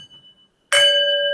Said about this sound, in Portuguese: Ouviu o sininho, ó?